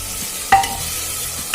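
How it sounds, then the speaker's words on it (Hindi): Vegetables for khichdi pulao stirred and fried in a pan, a steady close sizzle with a sharp scrape of the spoon partway through and another at the end. "वेजिटेबल्स थोड़ा भून लेते हैं हम"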